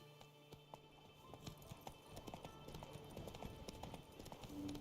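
Roach the horse trotting in Witcher 3, hooves clip-clopping in a quick steady rhythm, close and clear over a soft game ambience.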